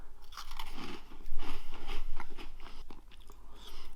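Flamin' Hot Puff Cheetos are crunched and chewed close up in a rapid series of dry, crackling bites over about four seconds, with no talking.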